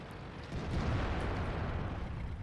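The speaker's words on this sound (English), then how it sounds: "Looks like some artillery is coming in" Distant artillery shell explosions in the tank combat game World of Tanks, a steady low rumbling roar with a few dull booms that swell after the first half second and hold, with no talk.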